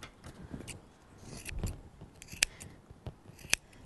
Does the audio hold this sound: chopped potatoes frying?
no